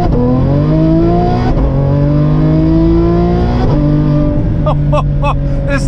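Ferrari F12 V12 engine accelerating hard with its exhaust valve open, a loud rising howl through several upshifts with brief dips between gears, heard from the cabin.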